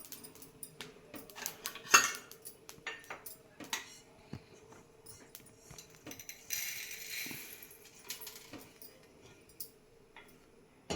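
Roasted fenugreek seeds being moved from a pan into a bowl make light, scattered clinks and scrapes of a spoon on metal, quiet and close, with a brief louder clatter near the start.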